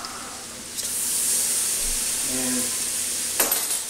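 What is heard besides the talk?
minced garlic sizzling and browning in a pan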